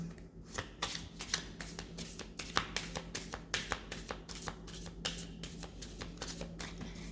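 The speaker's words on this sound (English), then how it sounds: "First, I'm going to clear the cards." Tarot cards being shuffled by hand, a rapid series of crisp riffling flicks and taps close by, repeating steadily over a quiet background hum.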